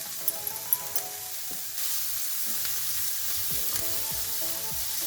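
Pumpkin thoran sizzles steadily as it is stirred and fried in a pan with salt, a few sharp spoon scrapes and clinks on the pan sitting over the continuous frying hiss.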